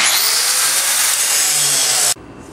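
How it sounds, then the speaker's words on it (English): A power grinder cutting gauges off the metal of a classic car under restoration, a loud sustained high-pitched whine and grind that stops abruptly near the end, leaving quiet room noise. "I'm going to go ahead and grind the rest of these gauges off of here"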